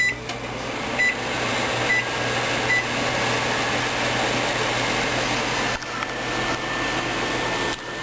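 A microwave oven heating oatmeal runs with a steady, loud whirring hum and fan noise. A few faint beeps come near the start, and there is no talking.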